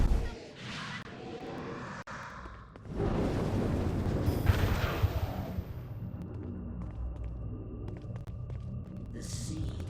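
Heavy rumbling blasts and bursts of gunfire from the game Saints Row: Gat out of Hell, loud at first, then fading into a lower continuous roar and scattered shots, with a narrator talking over the action.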